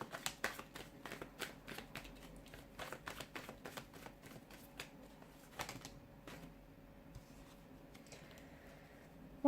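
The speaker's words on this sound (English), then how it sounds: "give the cards a shuffle" Tarot cards being shuffled by hand, a run of quick crisp riffling clicks and soft flutters, close and fairly quiet, with pauses between bursts and no talking.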